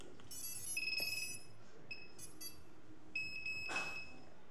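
An FPV drone's beeper gives short, bright electronic beeps in a few separated bursts, with faint handling noise between them.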